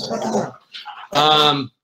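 Dogs in a home bark and yelp close by in two short, loud bursts separated by a brief whimper-like sound.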